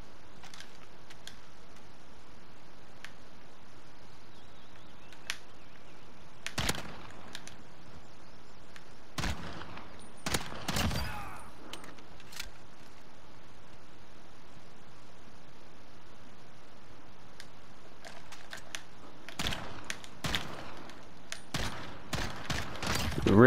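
Gunfire in Modern Warfare in a 1v2 gunfight, sprayed through a wall: scattered sharp shots with several quick bursts around the middle and a dense rapid string near the end, over a quiet noisy background.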